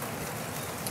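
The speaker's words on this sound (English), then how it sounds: "it's still raining, and there's still some wind" Rain and wind lingering after a hurricane in Florida, a dense continuous hiss of rainfall and gusting air, close and steady over a brief moment.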